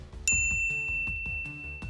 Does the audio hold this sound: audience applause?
no